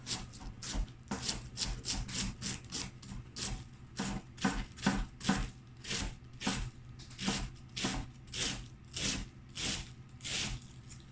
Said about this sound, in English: I'm almost chiffonading the cabbage